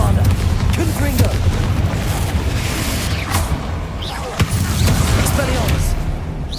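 Bombarda and Confringo spell blasts in Hogwarts Legacy, a string of booming explosions and sharp impacts over a dense low rumble of combat, loud and repeated.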